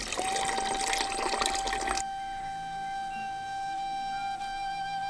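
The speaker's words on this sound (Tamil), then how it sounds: "பீன்ஸை வேக வைக்கிறதுக்காக 1 லிட்டர் தண்ணியை நம்ம பயன்படுத்திக்கிட்டோம்." One litre of water is poured into a pot for boiling rajma kidney beans, a close splashing gush for about two seconds, then it stops, leaving a faint steady tone.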